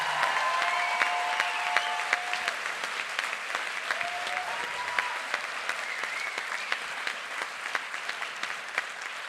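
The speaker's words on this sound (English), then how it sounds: "Let's give them all another big round of applause." An audience at a youth poetry slam gives young poets a long, steady round of applause, many hands clapping at moderate volume with occasional sharper claps and faint whistles or cheers mixed in.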